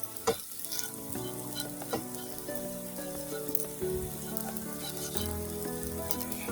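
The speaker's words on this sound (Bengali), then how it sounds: "আমি কিন্তু এটি বেশি কড়া করে ভাজবো না, হালকা একটু ভেজে নিব" Vermicelli (semai) fries lightly in a pan with a faint, steady sizzle, and clinking stirs repeat at an uneven pace, alongside a clear ringing tone from the cookware.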